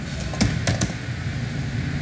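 Someone types a web address on a computer keyboard running Windows 10. A few sharp, separate key clicks stand out over a steady low hum from a fan.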